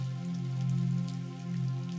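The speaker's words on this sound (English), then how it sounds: "and the rain constantly flowing." Steady rain falls on a mountain, a soft, even wash that holds at low volume with no other sounds on top.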